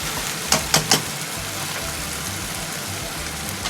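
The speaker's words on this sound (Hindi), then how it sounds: "बस हमें ऐसा ही भूनना है।" Masala sautés and fries in a pan with a steady, loud, close sizzle throughout, broken early by three quick utensil taps, with no voices.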